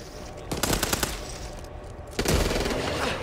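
Rapid bursts of automatic gunfire in Back 4 Blood, two loud rattling volleys separated by a quieter stretch, fired close with echoing rooms behind them.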